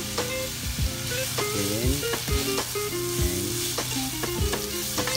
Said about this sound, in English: lagay na po natin yung ating bacon at tocino